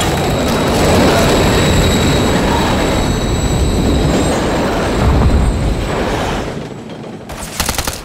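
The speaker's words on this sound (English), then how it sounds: "Crossing, watch the train." In the Call of Duty: Modern Warfare III video game, a train thunders past at close range, a loud dense rumble with clattering wheels and a squealing metallic whine, ending in a rapid rattling burst.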